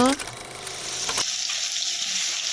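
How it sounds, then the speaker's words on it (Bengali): Onion goes into hot oil in a wok, setting off a loud hiss that settles into a steady, bright sizzle after a brief clattering start. "কড়াই বসিয়ে তেলের মধ্যে পেঁয়াজ দেওয়া হয়েছে।"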